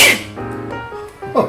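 One sharp sneeze up close, followed by a short spoken exclamation.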